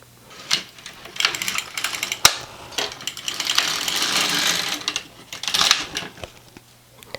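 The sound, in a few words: LK150 knitting machine carriage knitting plain rows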